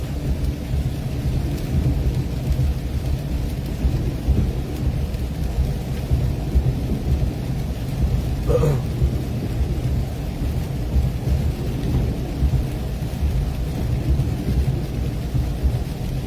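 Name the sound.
thunderstorm with thunder and rain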